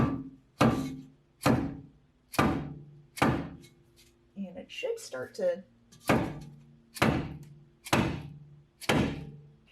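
Heavy hammer blows ring out on the trailing arm of a 1992 Honda Civic hatchback, struck loudly and evenly about once a second with a short pause mid-way where someone briefly speaks.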